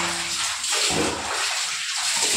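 Water poured over the body during a bath at home on a hot day, splashing in uneven gushes that swell and ease in close succession.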